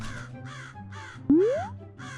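A crow caws repeatedly in a steady series of harsh calls, loud and close, with a brief sliding whistle-like sound partway through.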